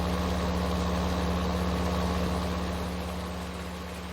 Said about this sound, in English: Let's zoom out so the tractor's not as loud.